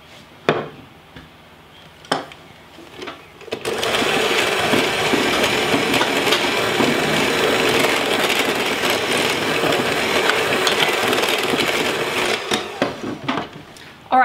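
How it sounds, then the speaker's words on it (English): Homemade shaving cream is whipped as baking soda is added gradually, a steady, fairly loud mechanical whir of beating lasting about nine seconds, framed by a few soft clicks and knocks before and after. "I'm going to add this gradually while I'm whipping the best I can."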